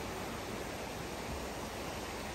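Water gushing steadily at the source of the Lagartero river in Guatemala, a dense, even rushing hiss with no breaks, close and moderately loud.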